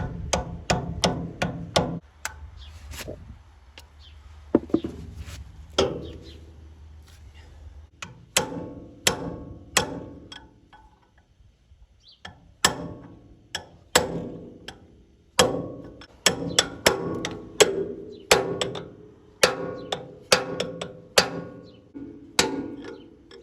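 Repeated sharp metal-on-metal hammer blows drive a bearing onto the rear axle shaft of a Yanmar 1500D tractor, coming in irregular bursts of strikes with short pauses between them, close and loud.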